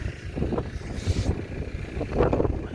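Strong wind over a wheat field buffets the microphone in low, uneven rumbling gusts, with a brief hiss rising partway through.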